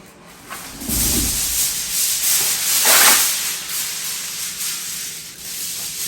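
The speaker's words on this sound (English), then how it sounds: "we're going to have to deal with a super thin aluminum foil" Thin aluminum foil crinkles and rubs continuously for several seconds as it is shaped into small boats, with louder crumpling bursts near the start and middle and no talking.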